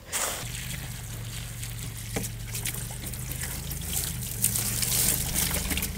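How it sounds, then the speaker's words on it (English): A scrubber works over the inside of a homemade live well while water trickles and splashes steadily, close and continuous throughout. "so I'm gonna scrub the inside and out."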